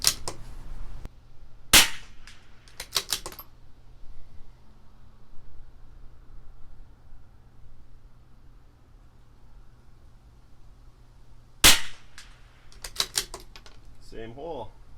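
A CZ 457 LRP rifle with an IBI barrel fires SK Long Range Match rounds at a 100-yard target, sounding as two sharp, cracking shots spaced about ten seconds apart, each followed by brief clicks of bolt cycling over a steady low hum.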